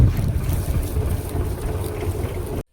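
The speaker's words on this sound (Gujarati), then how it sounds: "ટ્રેક્ટર વાળીએ છીએ અમે." A tractor engine rumbles low and steady while the tractor turns in a cotton field, close and loud with wind buffeting the microphone, then stops abruptly.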